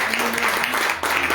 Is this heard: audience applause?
yes